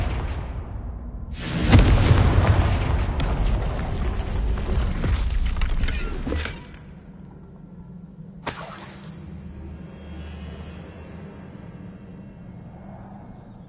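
The Confringo fire spell exploding in the Hogwarts Legacy game: a loud crashing blast with shattering debris lasting several seconds, fading into a low rumble, then a second short sharp burst.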